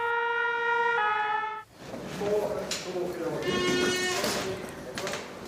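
A fire truck siren sounds loud and steady in a two-tone wail at first, then cuts out and returns fainter among street noise and talk as the fire engine pulls away from a volunteer fire station in France.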